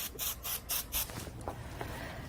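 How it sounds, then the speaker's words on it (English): Several short spray bursts from an adhesive spray can come in a quick rhythmic series, loud and close, then taper into quieter rustling handling noises. "So I have my spray here as well."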